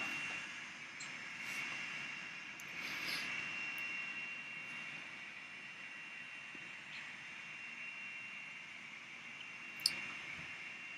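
A model jet turbine engine runs with a steady, moderately distant high whine and rushing roar, broken by a few faint clicks and one sharp tick near the end.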